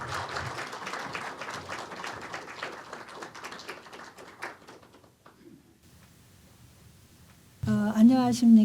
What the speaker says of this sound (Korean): 최연애 사장님을 큰 박수로 맞이하여 주시길 바랍니다.